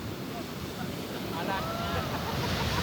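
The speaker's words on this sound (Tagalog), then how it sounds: "Ang lakas ng alon" Heavy surf rolls and crashes nearby, blended with steady wind rushing across the microphone; no one speaks.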